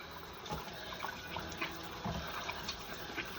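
Running tap water pours steadily into a kitchen sink while hands are washed beneath it after handling raw pork, a continuous close splashing hiss with small irregular splatters and no voices.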